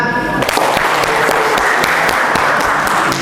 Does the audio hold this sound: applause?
yes